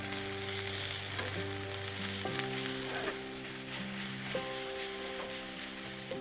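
Cooked rice and vegetables fry in an oiled pan for vegan fried rice, giving a steady, close sizzle throughout with a faint background tone running underneath.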